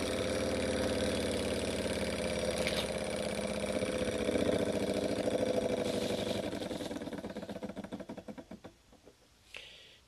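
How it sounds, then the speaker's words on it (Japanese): An American-made beta-type Stirling engine model runs with a steady mechanical whir and faint rhythmic knocking, then winds down and stops near the end, heard up close with no talking. "ではエンジンを止めます。"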